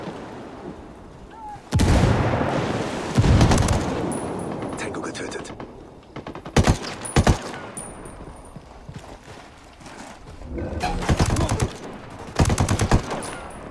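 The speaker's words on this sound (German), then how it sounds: "Hier ist irgendwo ein Maschinengewehr aufgebaut." Machine gun fire in Ghost Recon Wildlands comes as several loud bursts of rapid gunshots separated by quieter gaps, close and harsh, with some scattered single shots.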